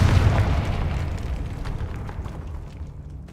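A Confringo blasting spell goes off in the video game Hogwarts Legacy, a loud, deep booming explosion that starts at full force and rumbles away slowly, heard alone.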